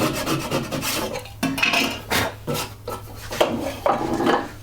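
A hand saw cuts spline slots in a mitred wooden box held in a jig, a rhythmic rasping of close, loud back-and-forth strokes with brief pauses.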